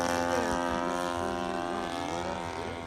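A 1/4 scale Balsa USA Piper Cub model airplane powered by a converted chainsaw engine drones steadily overhead, its buzzing note gently shifting in pitch as it flies, fairly faint and continuous.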